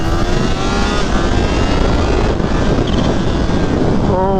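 A Kawasaki Ninja H2 sport bike engine, loud and close, a continuous dense roar with rising harmonic tones as it pulls hard, no pauses.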